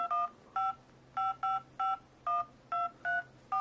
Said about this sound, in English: We'll just dial a number.